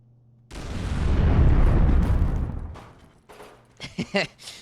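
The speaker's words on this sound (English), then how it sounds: "I like that one explosion so loud it clips the speakers every time I die" A loud explosion in Fallout 4 with the FROST mod bursts in suddenly, swelling into a long rolling roar that fades over a couple of seconds, followed by several short sharp cracks or bursts.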